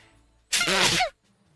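A single loud sneeze bursts out after a quiet stretch with faint background murmur, lasting about half a second before silence returns.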